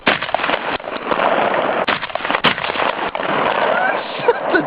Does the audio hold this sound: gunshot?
yes